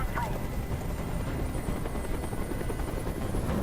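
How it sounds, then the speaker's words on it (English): Steady low rotor rumble of a hovering helicopter from the video game Detroit: Become Human, a continuous dense drone holding constant level throughout. "I can't stand that noise anymore. Tell that helicopter to get out of here."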